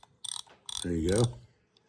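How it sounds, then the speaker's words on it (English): Drag on a vintage Mitchell 301 spinning reel buzzes in short bursts of rapid clicking, close by, and one longer grinding whir that rises slightly in pitch as it is tightened. "Now the drag's working, you can hear it. And as you tighten it down, the drag gets tougher."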